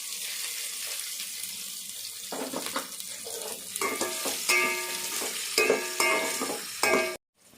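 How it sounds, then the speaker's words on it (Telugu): Onions and green chillies fry in a pan with a crackling sizzle, broken up by stirring scrapes and clatter, then a short bright clink before the sound cuts off abruptly. "పచ్చిమిర్చి ఫ్రై అయ్యాక ఇప్పుడు ఆనియన్స్ వేసుకొని ఫ్రై చేసుకుందాం"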